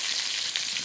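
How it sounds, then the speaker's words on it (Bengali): Turmeric powder fries in hot oil in a wok, a brief, steady, crackling sizzle heard up close. "হলুদ গুঁড়ো খুব ভালো করে ভেজে নেব।"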